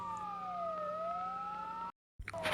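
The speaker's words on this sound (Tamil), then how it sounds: "I think police sound police மாதிரி தான் கைஸ் இருக்குது." A police siren in a Roblox horror game wails in a steady rising and falling tone, then cuts out abruptly before a short burst of harsh noise and the siren returning.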